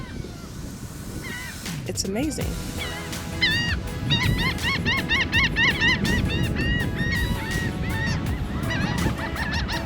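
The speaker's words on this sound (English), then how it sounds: "Listen to the sounds of these birds." Birds honk in a busy, repeated chorus on an isolated Padre Island National Seashore beach at sunrise, fairly close over steady background wash, while a person briefly speaks.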